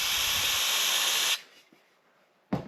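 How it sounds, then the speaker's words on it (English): Knoll car brake cleaner sprayed onto the chain of a vintage Raleigh Superbe bicycle, a loud, steady close-up aerosol hiss lasting over a second, then silence and a brief second burst of spray. "Use an evaporating cleaner such as Knoll Car Brake Cleaner and just give it a bit of a squish over so it cleans out"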